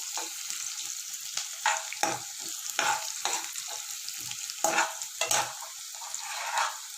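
Onions and green chillies sauté in a hot pan of oil for noodles, a steady loud sizzle broken by repeated scraping stirs of a spatula, close and with no voices.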